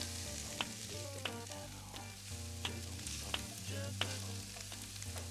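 Onions frying in olive oil give a steady sizzle, with sharp clinks and taps from stirring at intervals and a low background hum throughout. No one speaks.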